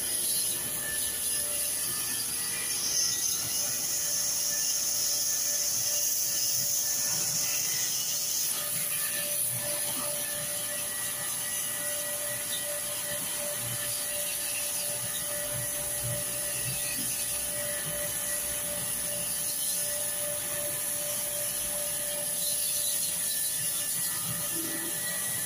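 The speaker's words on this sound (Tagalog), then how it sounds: "Napag-spray ng tubig. Gamit ang pressure washer." A steady, loud hissing spray runs continuously with a high whining motor tone, a pressure washer blasting water close by while cleaning a window-type air conditioner unit.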